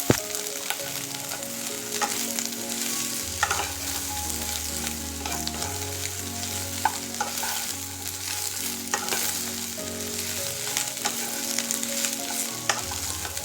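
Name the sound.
carrot strips stir-frying in pan for veg chowmein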